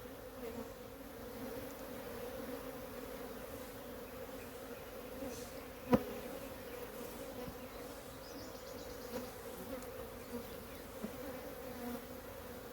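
Dense swarm of honeybees drones steadily around opened hive frames during a swarm-prevention inspection, a continuous close, even buzz with one brief sharp knock partway through.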